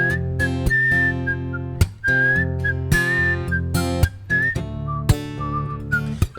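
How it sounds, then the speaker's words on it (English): A person whistles the melody of Otis Redding's "Dock of the Bay" alone, a clear, close tune of sustained notes with brief gaps between phrases, somewhat unsteady in pitch. "But as you can hear, that sounds terrible, right? I can't whistle."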